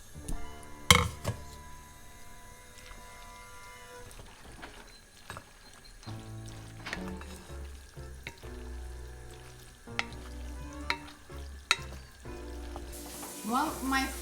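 Pasta and pesto warming together in a pan, a steady low sizzle and frying hiss with occasional sharp clinks of a utensil against the pan and some background kitchen activity.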